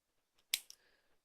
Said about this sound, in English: slide your scissors in and cut through the loops